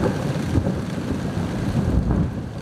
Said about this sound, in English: It's been raining all night, thundering, lightning, it's been a show.